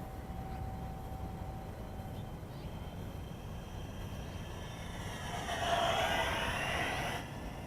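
An RC P-47 Razorback WW2 fighter model by Alfamodels makes a slow flyby. Its faint, distant engine drone swells briefly as it passes, then eases off.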